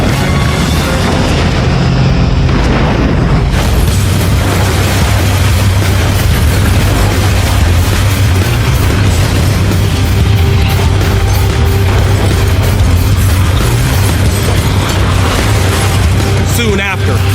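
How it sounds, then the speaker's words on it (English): A fire-ravaged high-rise building has its upper floors giving way, a continuous loud roaring rumble of collapse and fire with deep booms throughout, dense and unbroken, with a narrator talking over it. "At 1:30 a.m., the east face of the 21st floor collapses."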